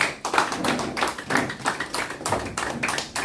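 Crowd at a press conference announcing party membership clapping as party uniforms are put on, a lively, uneven burst of many hands nearby, rising and falling in waves.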